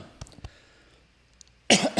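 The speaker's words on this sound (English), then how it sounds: "that's me having a little coughing fit in the middle of my recording" A few sharp coughs ring out early, then a louder burst of coughing erupts near the end, close to the microphone.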